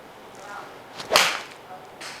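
A Titleist iron strikes a golf ball on a practice range, giving one sharp, loud swishing crack that fades quickly, with faint background noise before and after.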